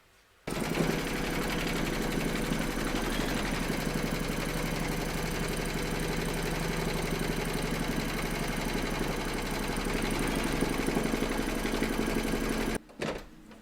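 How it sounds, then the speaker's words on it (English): An embroidery machine stitches and quilts fabric held in a hoop, a loud, steady mechanical whir with fast rapid needle ticking that runs continuously for about twelve seconds, then stops abruptly. "We're now going to pop our hoop into our machine and stitch round number 3, and that's going to secure our fabric and quilt it as well."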